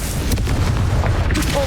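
The Confringo explosion spell from Hogwarts Legacy goes off as a single short, heavy boom that fills the moment, with a faint later pop.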